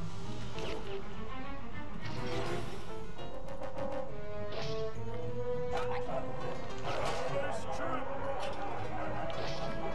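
An enemy dog in the SpongeBob Movie Game barks, yips and whimpers repeatedly over a dense, continuous bed of game music and effects.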